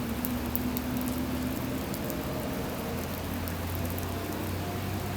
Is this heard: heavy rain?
yes